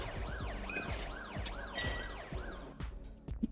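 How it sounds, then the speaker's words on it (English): A wailing emergency siren from the racing video game Automobilista 2 rises and falls in steady repeated sweeps, loud and continuous, with a few thumps and clicks near the end. "They've got rid of the siren, haven't they? Or have they? Hang on, let's listen."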